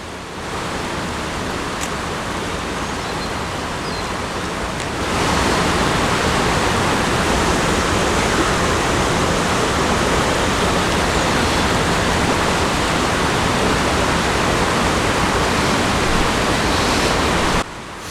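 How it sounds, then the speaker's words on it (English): A waterfall on a Dartmoor river pours over rocks in a steady, full roar that grows louder after the first few seconds and runs on without a break. "the main part of the waterfall as it comes down over the rocks"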